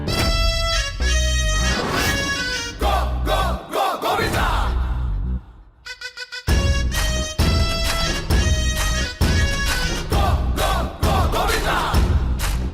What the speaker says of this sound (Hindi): कितना भीड़ है इधर।